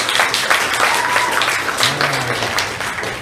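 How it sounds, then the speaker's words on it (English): Comedy-club audience applauding for married people, a dense, steady wash of clapping that fills the room for about three seconds without letting up. "Round of applause."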